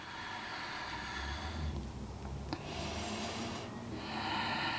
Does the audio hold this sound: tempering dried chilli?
no